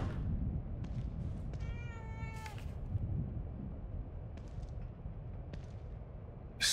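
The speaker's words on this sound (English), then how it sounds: "I don't ever remember owning a cat." A cat meows in the video game The Evil Within, one clear drawn-out meow at moderate loudness over a low rumbling ambient background, with a few faint scattered clicks around it.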